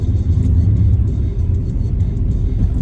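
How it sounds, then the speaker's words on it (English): A 1993 Asuna Sunfire driving on an early evening outing, its engine and road noise forming a steady low rumble heard from inside the car, fairly loud and constant with no talk. "The Asuna drives pretty well, Sarah."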